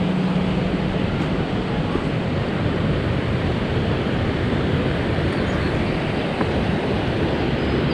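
A broad, constant roar of rushing water from a river with a strong current in Córdoba, Argentina, lined with sandy banks and dense trees, steady and loud throughout with no talk.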